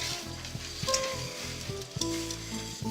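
Arborio rice sizzling in oil in a paella pan over rising heat, a continuous close crackle with intermittent stirring knocks and scrapes.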